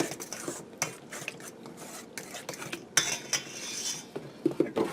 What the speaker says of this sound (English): I'm just going to whisk that in there quick